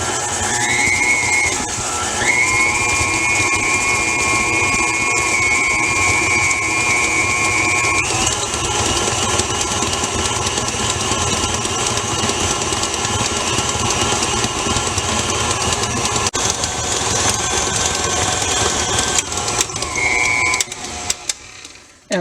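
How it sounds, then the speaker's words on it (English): An electric stand mixer runs steadily while creaming butter and sugar for Christmas sugar cookie dough, a constant whirring motor hum with a brief pitch shift near the start and end, no talking. "I'm going to cream those 3 ingredients together real well before we add the vanilla"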